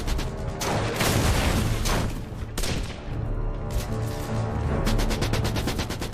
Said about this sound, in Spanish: Lalogue identifica de dónde proceden los disparos de las ametralladoras alemanas